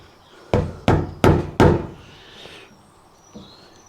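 Chisel being struck into wood to cut a recess for a door hinge, four sharp loud knocks in quick succession followed by fainter scraping and a soft tap.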